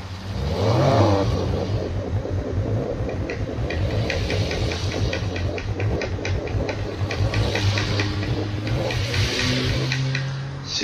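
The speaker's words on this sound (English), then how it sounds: "Then you start tapping the accelerator, because it sounds more real." A car engine in the Forza Horizon 3 racing game, tuned to sound cammed, revs from around 2000 RPM as the accelerator is tapped repeatedly, giving a loud, lumpy, pulsing drone that rises and falls without any talking.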